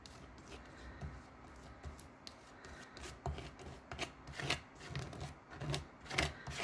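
Excess embossing paste is scraped off a stencil mask with a spreader, making soft repeated rasping strokes that are close and quiet, in an uneven rhythm.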